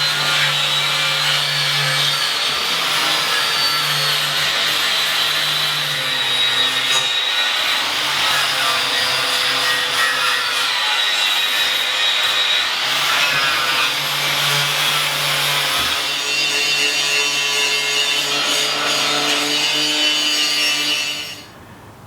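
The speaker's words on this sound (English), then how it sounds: "Me and Chris are going to grind this up." An angle grinder dresses a steel off-road bumper in a garage, a loud continuous grinding whine that runs nearly unbroken with small shifts in pitch, then cuts off at the end.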